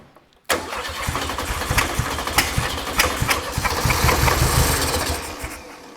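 An air-cooled VW Beetle 1500 engine, long unused, catches abruptly after a brief silence and runs on loud and close with a rough, uneven idle and occasional knocking pulses.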